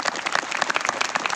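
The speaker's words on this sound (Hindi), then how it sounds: "एक बार मैं चाहूंगा आप अपने लिए स्वयं ताली बजाइए साथियों," Audience at a student rally clapping in a dense, steady burst of many hands, close and fairly loud, with no voices over it.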